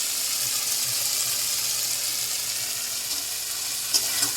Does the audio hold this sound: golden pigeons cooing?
no